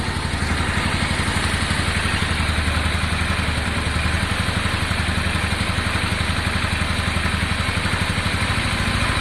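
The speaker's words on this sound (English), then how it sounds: "I'm gonna let it idle a couple of minutes and let it sort itself out just gently." Honda Deauville motorcycle engine idling after a carburettor clean, a steady, close and loud rapid mechanical pulse that holds an even rhythm throughout with no revving and no talking.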